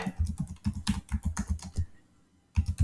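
Rapid typing on a computer keyboard while writing a Python script, with a steady run of close, crisp key clacks, a short pause, then another quick burst of keystrokes, and no talking.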